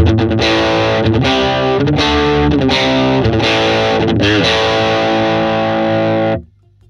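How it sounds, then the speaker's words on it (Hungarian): An electric guitar through an Ibanez MINI distortion pedal plays loud, thick, saturated chords in a steady rhythm for about six seconds, then cuts off abruptly. "ha a Tube Screamer az Overdrive, akkor ez a széria distortion pedálja"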